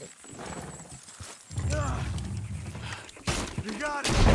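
Horses in the video game Red Dead Redemption 2, with hoof clip-clops and a whinny over a low rumble, while someone talks across much of it.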